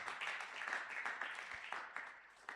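Church congregation applauding for Jesus during a Sunday praise and thanksgiving service, a steady wash of many hands clapping with a few sharper claps standing out.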